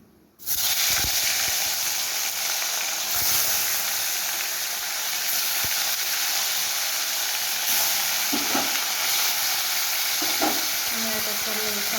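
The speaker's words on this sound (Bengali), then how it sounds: "কড়াইতে তেল গরম হয়ে গেছে এবারে আমি মাছগুলোকে ভেজে নেব সব" Fish frying in hot oil in a wok, a loud, dense steady sizzle that starts abruptly and continues close up, with a few faint utensil knocks.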